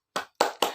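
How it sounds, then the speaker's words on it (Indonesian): A classroom group does a rhythmic spirit clap. Three crisp, evenly spaced claps ring out close by in quick succession, with silence between them. "kita tepuk semangat dulu yuk"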